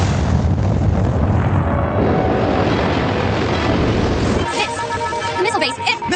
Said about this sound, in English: Missiles have been launched.